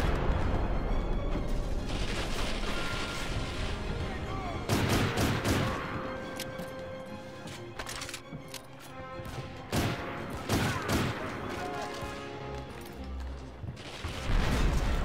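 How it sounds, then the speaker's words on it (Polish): Dense battlefield barrage in the Medal of Honor: European Assault video game, with repeated explosions, cannon blasts and gunfire bursts layered over constant rumbling combat noise, loud and close throughout with faint speech underneath. "co to za wybuchy i eksplozje?"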